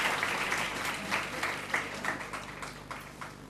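Brief burst of audience clapping welcoming a student at a Class 12 award ceremony, a moderately loud crowd applause lasting a few seconds.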